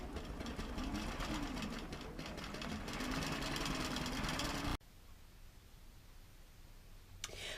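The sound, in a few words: quilting machine sewing a repair pattern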